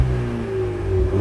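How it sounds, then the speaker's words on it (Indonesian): A 2012 VW Scirocco TSI with an aftermarket exhaust revs with a loud, close, steady low engine drone and a faint whine, with no talking over it. "Gue geber sedikit biar kalian dengar suaranya."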